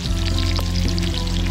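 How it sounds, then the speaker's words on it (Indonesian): Sliced onions sautéing in leftover fish-frying oil, a steady close sizzle with crackling hiss and a low hum, continuous throughout with no talking. "tumis hingga bawang layu."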